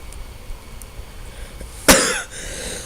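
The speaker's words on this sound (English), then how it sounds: "Man, my cough is not good right now." One sharp, close cough rings out over a quiet room hum from someone playing a city-building game, then fades quickly.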